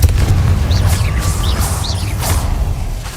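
In a Harry Potter video game, the Confringo spell bursts in a heavy booming blast with a whooshing rush, loud and close, over a couple of seconds, with faint voice-like sounds in the mix.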